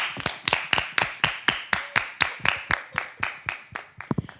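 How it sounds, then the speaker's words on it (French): About a dozen evenly spaced hand claps ring out close and loud for Togo, a steady rhythmic clapping that ends in a few quicker claps, with no talking over it. "Mais applaudissez le Togo"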